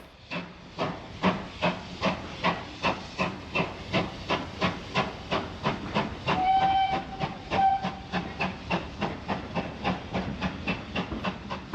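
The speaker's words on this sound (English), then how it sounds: "We are going to watch the train depart." A steam train pulls out of Winchcombe station on a heritage railway in the Cotswolds with rhythmic chuffing exhaust beats that steadily quicken, while a whistle sounds twice in the middle, heard close and alone.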